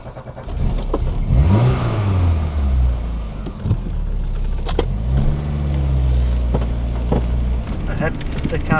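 A Peugeot 309 GTi hot hatch revs its engine in two rising and falling surges, loud and close, over a steady idle, with someone talking over part of it.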